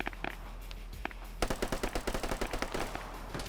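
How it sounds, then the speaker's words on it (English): A Bren gun firing in a multiplayer video game match: scattered distant shots, then a rapid burst of about a dozen evenly spaced, loud automatic rounds. "You hear that Bren gun firing."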